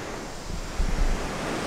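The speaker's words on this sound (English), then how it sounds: "these waves look awesome and I want to be on them" Ocean waves break along the Costa Rica coast, a dense steady surf roar with a brief louder surge mid-way, buffeted by wind noise on the microphone.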